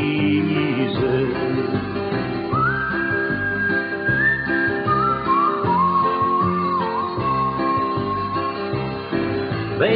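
Someone whistles a slow, wavering melody over soft background music, the notes sliding and sustained one after another.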